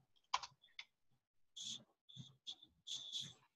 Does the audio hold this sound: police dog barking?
no